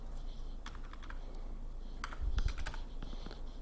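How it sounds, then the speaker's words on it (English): Typing on a computer keyboard, a quick run of light clicks and taps, close but fairly soft, with no talking. "Sorry about the typing."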